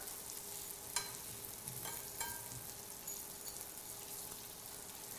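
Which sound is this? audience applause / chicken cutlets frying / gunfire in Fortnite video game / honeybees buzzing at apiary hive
chicken cutlets frying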